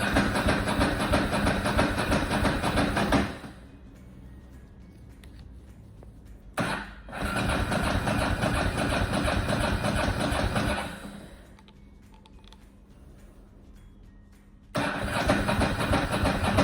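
Ducati motorcycle engine cranking with a little choke, a loud, close, steady mechanical churning in long bursts separated by pauses, with one brief crank in the middle, never quite catching.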